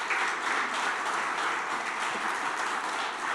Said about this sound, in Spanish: ¿Por qué no le das un aplauso al Señor entonces?